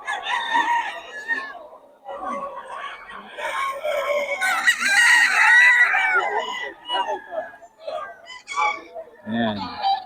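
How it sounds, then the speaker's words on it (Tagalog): Several roosters crowing at a cockfighting derby in Bocaue, repeated raspy cock-a-doodle-doo calls overlapping from near and mid distance, with clucking and crowd voices mixed in. "Iuwi natin ang mga manok."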